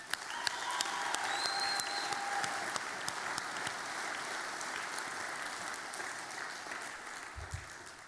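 A steady wash of applause from a large audience at a young farmers' grand final, dense clapping at an even level for about eight seconds with faint background tones.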